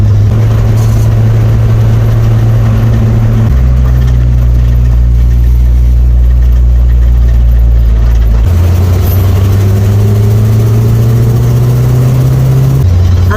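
Car with a rebuilt manual transmission being driven, a loud, close engine drone that steps up and down in pitch as gears are shifted, no talking.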